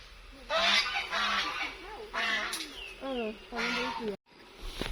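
Several geese honk in loud bursts, some calls rising and wavering, driven out of a garden with people herding them nearby; a brief gap of near silence falls before the end.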